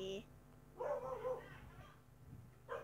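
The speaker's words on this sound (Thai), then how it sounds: "แล้วหมามันมาเห่าอะไรตอนนี้นะฮะ" A house dog barks a few times in the background, fairly faint, under a voice as he talks while playing Minecraft.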